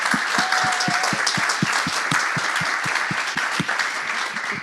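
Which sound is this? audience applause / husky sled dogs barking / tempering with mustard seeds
audience applause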